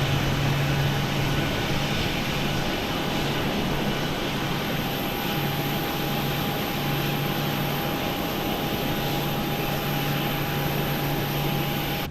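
A PMDG 737-800 jet engine running steadily inside a flight simulator game, a constant broad roar with a low hum and faint high whine throughout, no voices.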